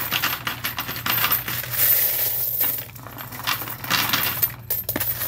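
Coins dropping and clinking into a savings container for a Philippine coin-saving challenge, a steady run of metallic jingles and rattles close up, with no talk.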